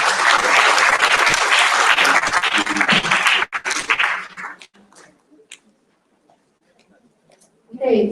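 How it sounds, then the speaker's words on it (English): An event audience claps loudly for about three seconds as a symposium guest is called to the stage, then the clapping tapers into scattered claps and near silence before a voice returns. "let's give applause"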